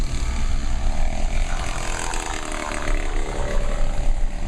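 Loud, broadband road and engine roar fills the interior of a moving car, a constant rushing drone with wind buffeting and no voices.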